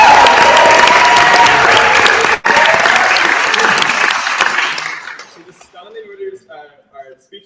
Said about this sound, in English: I think a big round of applause is due for all those people.